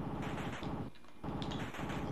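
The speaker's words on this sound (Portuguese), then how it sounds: "Um botão solta tiro e outro solta as bombas." Rapid repeated gunfire from an NES shooting game, a fast stuttering burst of electronic shots that breaks off briefly and then resumes, clear and close without speech.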